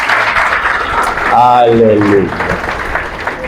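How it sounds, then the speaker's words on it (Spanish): A church congregation applauding for the Lord, a broad wash of clapping running the whole time beneath a voice that calls out loudly over it. "le pueden dar una fuerte ofrenda de aplauso al Señor"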